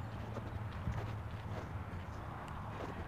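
A horse's hooves clip-clop in a steady, soft walking rhythm close by, heard over a constant low background rumble.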